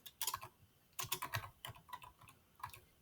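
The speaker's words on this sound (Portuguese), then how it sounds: "Digitei aqui e cliquei" Bursts of quick key clicks typing on a computer keyboard, close and fairly quiet, in irregular runs with short pauses between.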